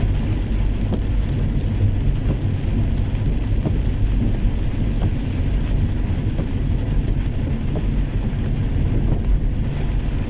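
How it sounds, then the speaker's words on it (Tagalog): Dense, steady rain pours without pause in Pototan, Iloilo province, Philippines, with low rumbling in the background suggesting distant thunder. "Ulan na ulan na."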